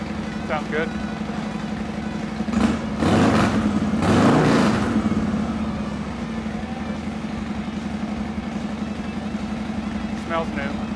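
A motorcycle engine fitted with a new Sawicki Speed exhaust, idling with a steady low rumble and then revving hard through a loud burst, settling back to idle, with people talking nearby.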